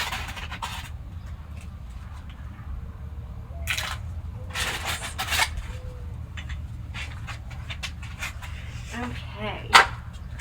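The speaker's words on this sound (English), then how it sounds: "Oh, look, there's a doggy." A dog pants close by in rapid, breathy bursts over a steady low outdoor hum, with a few sharp clicks and a brief louder noise near the end.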